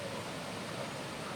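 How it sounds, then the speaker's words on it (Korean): A rain-swollen stream runs through a valley at the Garden of Morning Calm arboretum, giving a soft, even rushing hiss that stays constant and fairly faint throughout, with no voices over it. "예, 시냇물 소리도 들리시죠?"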